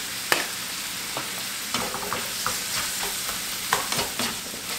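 Cheesesteak filling seasoned with All-Purpose and Mrs. Dash sizzles steadily in a pan, with scattered clinks and scrapes of stirring close by, no speech.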